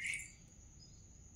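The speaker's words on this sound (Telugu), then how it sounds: "ప్రశాంతమైన బ్రహ్మ ముహూర్త సమయంలో పక్షులు సౌండ్ ఎలా చేస్తున్నాయి చూడండి." Birds calling in the calm pre-dawn hour: a quick bright chirp at the start, then a thin sustained high whistle fading into a quiet, faintly hissing background.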